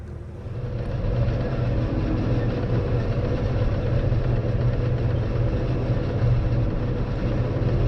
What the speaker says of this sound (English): The nice thing about going downhill is I don't even have to put the tractor in gear.